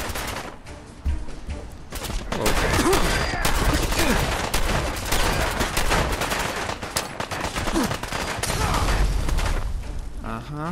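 Rapid bursts of automatic and single gunfire from a Fallout 4 Far Harbor firefight, loud and dense for most of the stretch, with a player's voice breaking in now and then.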